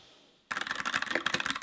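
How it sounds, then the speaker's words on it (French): Rapid, close keystrokes clatter on the keyboard of a connected typewriter, a dedicated writing machine, starting abruptly after a brief quiet moment and continuing in an uneven rhythm. "imaginez que c'est une machine à écrire connectée"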